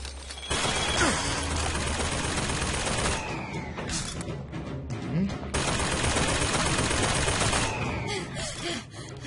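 Gunfire rattles in Bioshock Infinite, with sustained bursts of rapid shots across most of the stretch and a short lull in the middle, with a voice speaking underneath.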